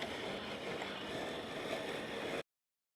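An ECOVACS GOAT A3000 robotic lawn mower with a built-in string trimmer cuts grass with a steady, even whir and brushy rush that holds constant and then stops abruptly.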